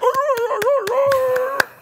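Someone imitates applauding seals: quick, regular hand claps, about eight in under two seconds, sounding over a continuous nasal, barking voice that mimics a seal.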